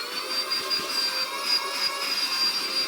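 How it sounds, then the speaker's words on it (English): A budget AliExpress handheld car vacuum cleaner runs continuously, a steady high whine with airy hiss, close and alone. "So that's the vacuum cleaner."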